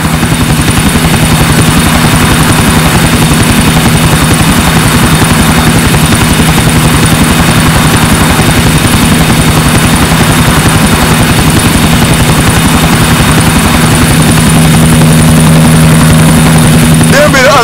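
Loud, steady helicopter rotor thump and engine roar in Grand Theft Auto IV, filling the whole stretch, continuous and close.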